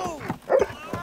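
A cartoon dog gives a couple of short, high barks and yips, close and clear, between brief bits of voice.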